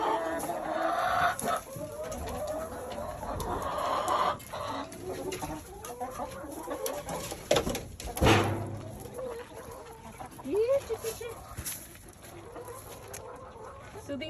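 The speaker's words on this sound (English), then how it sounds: "So these are our older chickens." Older farm chickens cluck steadily in their coop, a dense flock chattering and squawking close by with occasional louder calls rising above the murmur.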